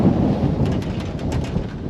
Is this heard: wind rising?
yes